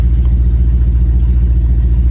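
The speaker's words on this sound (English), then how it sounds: "We're idling at about 870, 860-ish RPM, which isn't too bad." A 1968 Lincoln Continental V8 converted to Holley Sniper EFI idles at around 860 to 870 RPM, a loud, close, deep steady rumble with an even pulsing rhythm and no talk.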